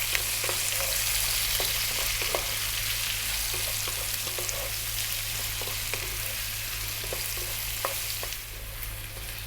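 Onions and garlic frying in oil for spicy belly pork and cabbage, a steady sizzle with occasional soft stirring clicks, close and even throughout.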